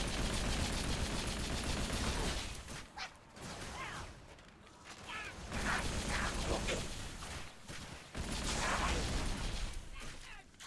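Dual-wielded guns in Halo 3 fire in long, rapid automatic bursts, loud and continuous with short gaps where the shooting pauses, amid whooshes and battle effects.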